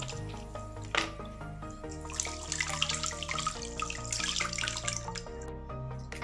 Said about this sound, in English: Next, I have to clean my hands.